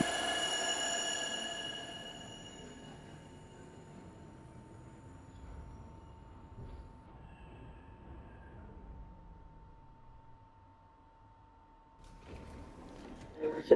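An NYC subway 3 train rumbles along toward the Bronx, a low steady car drone with a faint sustained tone and wheel noise, swelling again near the end, with announcements spoken over it.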